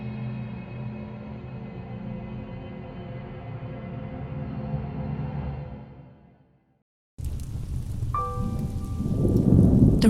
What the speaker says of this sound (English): The rain began to pour heavily that night.